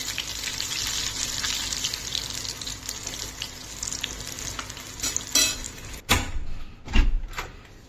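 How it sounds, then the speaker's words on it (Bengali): Eggplant slices frying in a pan, a steady broadband sizzle that stays close and fairly loud, with a few sharper clinks and stirring knocks near the end. "এখানে আমি বানাচ্ছি বেগুন ভাজা।"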